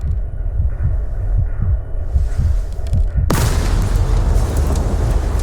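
A bomb explosion from footage of Australian and Japanese squads fighting in 1942: low thudding rumbles build, then a sudden loud blast erupts into a sustained roaring wash of debris and noise.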